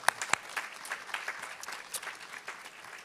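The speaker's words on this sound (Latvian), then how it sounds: "Es domāju, aplausi." An audience at a youth graduation ceremony for a European Parliament ambassador school breaks into applause. The clapping is moderate and scattered, with a few sharper claps at the start.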